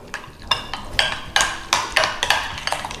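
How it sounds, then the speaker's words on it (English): A spoon stirs sour cream, milk, green chilies and green enchilada sauce in a bowl, repeated scraping clinks about twice a second, close and clear with no talking. "Stir that all together."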